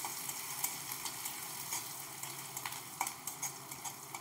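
Finely chopped ginger fries in oil in a pan, giving a steady, quiet sizzle with a few light clicks and stirring taps scattered through it.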